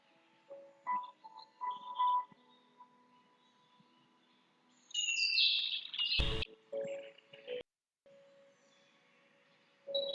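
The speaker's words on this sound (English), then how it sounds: "By listening to crow, all the birds started flew away." Birds in a jungle cartoon scene chirp and tweet in short bursts, then a bright squawking flurry and a sharp burst as they take off, followed by scattered faint calls.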